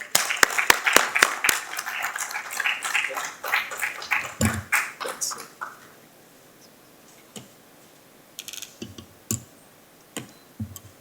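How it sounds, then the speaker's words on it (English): Audience applause at an IIT Madras graduates' event, starting as full clapping from many hands, then thinning over the next seconds into a few scattered, sparse claps. "Let's give them a big round of applause."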